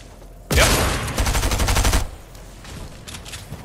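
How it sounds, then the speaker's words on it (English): A rapid volley of gunfire in Fortnite, a loud close burst of repeated shots lasting about a second and a half, then quieter game ambience with no talking. "I hit him with my shotgun"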